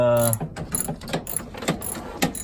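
A ratchet clicks in quick bursts while screws are backed out of the dashboard of a 1966 Cadillac, close and crisp, with short pauses between each run of rapid clicks; nobody speaks.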